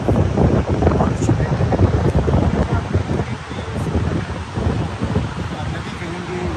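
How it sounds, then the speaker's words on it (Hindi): Steady wind gusting across an open trekking trail on the third day of an Everest Base Camp trek, a loud continuous roar with microphone buffeting, and a voice talking over it throughout. "बहुत अच्छी हवा चल रही है"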